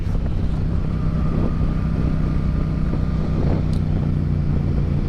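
A Yamaha FZ-07 (MT-07) motorcycle being ridden, its engine a steady low drone buried under constant wind buffeting, with no pause or change in intensity throughout.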